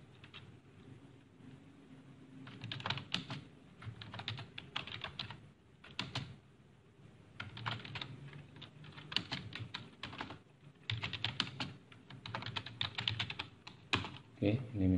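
Steady typing on a computer keyboard sounds as quick clustered key clicks in short bursts with brief pauses, close but fairly quiet, with a faint low background hum.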